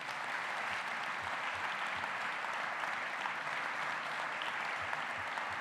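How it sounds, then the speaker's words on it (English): A hall audience at an evening event claps in a sustained, even round of applause that stays fairly quiet and steady throughout, with occasional low thumps underneath. "let's give them a round of applause"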